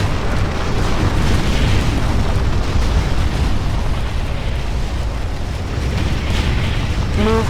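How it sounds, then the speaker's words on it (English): An enemy structure blows up in the strategy game Ground Control, a loud, sustained roar of explosions and rumbling booms with battle clatter throughout and a short tonal blip at the very end. "Enemy structure destroyed."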